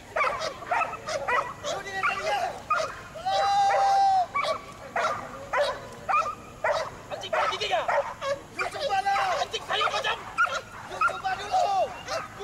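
A Malaysian prison K9 unit police dog at a 2011 demonstration yips, whimpers and barks in short bursts while people talk nearby, the dog sounds coming and going over steady background noise.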